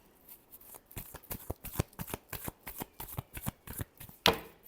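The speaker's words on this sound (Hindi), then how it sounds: "Last shuffle." Tarot cards being shuffled by hand in a steady run of quick riffling flicks, close and crisp, ending with one sharper snap.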